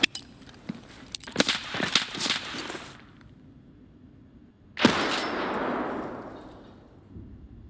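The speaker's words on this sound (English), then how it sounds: "somebody was blasting at us" Gunfire in Escape from Tarkov: a run of loud, sharp shots and clangs in close succession, a pause, then one big blast with a long rolling tail fading out.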